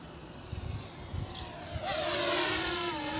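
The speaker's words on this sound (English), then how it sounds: "You can hear the noise of the drone." Small DJI camera drone in flight, a steady high-pitched whirring buzz that swells louder and nearer partway through, with faint thumps early on.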